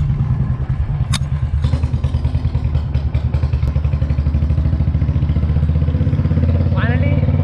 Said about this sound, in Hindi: हमारी बुलेट एक बार में स्टार्ट हो गई